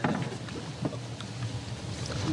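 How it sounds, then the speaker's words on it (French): A smuggler's boat motor keeps running off Mayotte, a steady low rumbling drone mixed with wind buffeting and water splashes, close and continuous. "Le moteur, il n'est pas arrêté."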